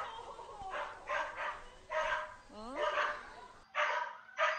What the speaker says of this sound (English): sorry if you can hear the howl fest going on in my house. Very excited dogs.